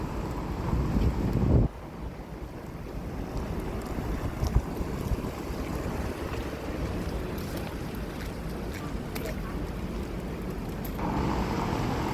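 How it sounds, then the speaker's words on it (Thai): Strong wind roars and buffets the microphone nonstop, a loud, steady rumble with gusts and no voices. "แต่ลมแรงนะทุกคน"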